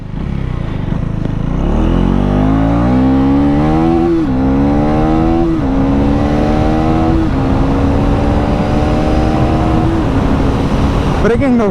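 A KTM Duke 390 motorcycle engine at speed, loud and close, rising through several gears with brief dips at each shift before climbing again, a steady wind-blown roar underneath.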